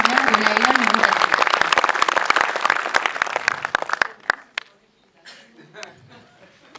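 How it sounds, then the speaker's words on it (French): Audience clapping at a season presentation event, a lively burst of applause with some chuckles that tapers off after about four seconds into a few scattered claps and quiet murmurs. "On peut les applaudir"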